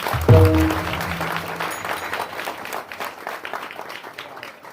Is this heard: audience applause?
yes